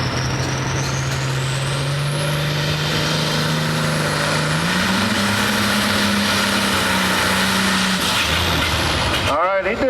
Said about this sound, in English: he's driving Ray Norris's well-armed 4255 John Deere here tonight